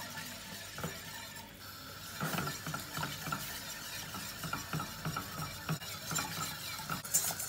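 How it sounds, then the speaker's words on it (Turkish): Flour roux being stirred with cold milk in a pot until it comes to a boil, giving steady scraping and sloshing with rhythmic clinks of the spoon, close and fairly loud, with no voices. "Bunu kaynayana kadar karıştıracağız."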